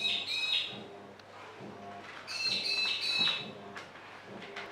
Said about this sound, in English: Ignore the bird.